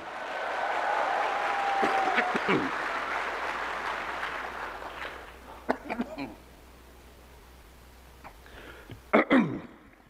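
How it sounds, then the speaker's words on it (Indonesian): A few short throat-clearing coughs from a speaker at a school inauguration in Indonesia sound near the end, after a stretch of loud crowd noise that fades into a quieter room. "Batuk karena semangat."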